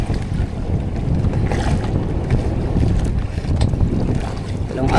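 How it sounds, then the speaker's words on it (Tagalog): Big waves and gusty wind around a fishing boat at sea off Surigao, with a loud, continuous rush of water and wind buffeting the microphone, and a faint voice briefly in the mix. "Laki pa rin alon ngayon."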